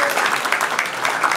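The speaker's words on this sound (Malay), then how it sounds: "Dan kita punya pemain keyboard kita, tepukan yang paling baik untuk Rosa Amio." An audience applauds a keyboard player at a stage show, a dense burst of close, loud clapping with some voices mixed in.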